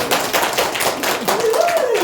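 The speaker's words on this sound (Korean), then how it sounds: "우리 유진이 박수 한번 쳐주겠습니다" Clapping at a Korean church sermon, a burst of hand claps from a congregation with a voice rising briefly over it, close and fairly loud.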